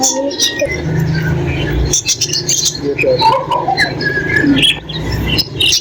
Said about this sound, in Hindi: छोटी छोटी सी मुर्गियाँ, कितने सारे देखिए आप बजीज हैं